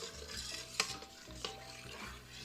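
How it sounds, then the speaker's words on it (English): A spoon stirring starch into rice pudding in a pot, soft scraping swirls with a couple of brief clinks against the pan, close and fairly quiet, no talking. "So just add the starch and mix."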